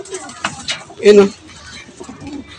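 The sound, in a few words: racing pigeon cooing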